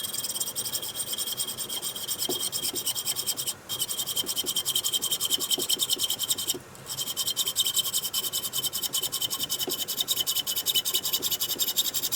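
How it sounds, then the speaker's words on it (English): Hacksaw cutting through T-channel and PVC for a glue-up table: close, steady rhythmic rasping strokes that continue throughout, broken by two short pauses. "we're ready to do the hacksawing of the T-channel and the PVC"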